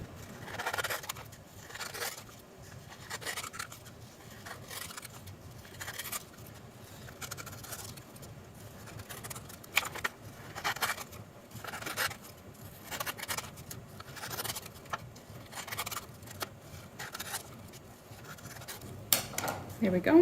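Paper being cut along drawn pencil lines for a 3D art project, a steady run of soft scissor snips and rustling paper at close range, with brief handling noises between cuts.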